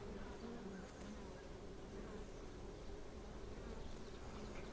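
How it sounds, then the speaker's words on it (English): Many honeybees buzzing around a flower patch in a drought-stricken garden, a dense, steady drone of wings close by with no voices, filling the whole stretch evenly. "It looks like the honeybees, it looks like I'm right next to a nest, or a hive I should say, or one of their bee boxes."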